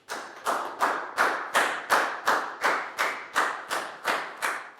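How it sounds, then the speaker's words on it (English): A class of Year 4 students claps in a steady rhythm, about a dozen even, loud beats in a row with no talking. "a big round of applause"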